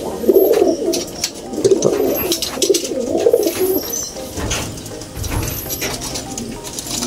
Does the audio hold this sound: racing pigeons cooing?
yes